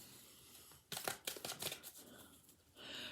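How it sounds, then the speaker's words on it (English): A deck of tarot cards being shuffled by hand, a burst of rapid papery riffling and flicking that settles into softer sliding, close and without talk. "as I shuffle these cards for Rachel"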